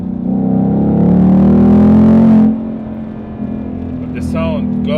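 Ford Mustang GT V8 engine and exhaust, a loud steady low rumble that rises slightly, then eases and drops to a calmer idle-like drone, with a brief whine or squeal near the end.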